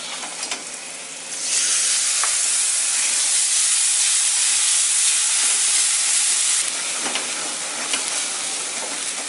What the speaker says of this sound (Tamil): இது ஒரு 2-3 நிமிஷம் நல்லா கொதிச்சு எண்ணெய் பிரிஞ்சு வரும்